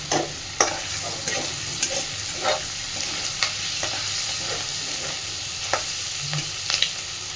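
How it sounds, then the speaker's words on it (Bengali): Fish oil fried with onion stalks sizzles steadily in a pan, broken by repeated scraping stirs of a spatula, close and moderately loud with no voices. "মাছের তেলটা কিন্তু পেঁয়াজ কালির সাথে আমার খুব সুন্দর করে ভেজে নেওয়া হয়ে গেছে"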